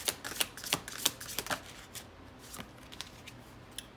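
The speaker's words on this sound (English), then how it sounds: "Let me shuffle for one more." Tarot cards are shuffled in a rapid run of crisp riffling snaps and flutters, close by, with no talking.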